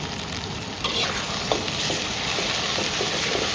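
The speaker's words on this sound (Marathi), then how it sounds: "हे पण चांगले तेलामध्ये परतून घ्यायची" A tomato-onion paste gravy for a raw papaya vegetable dish fries in oil, giving a steady close sizzle with a few soft stirring scrapes and no voices.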